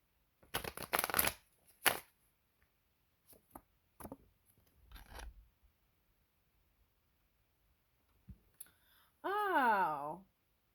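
Tarot cards are shuffled in two quick riffling bursts near the start, followed by scattered soft clicks and taps of the deck, with a voice heard briefly at the end.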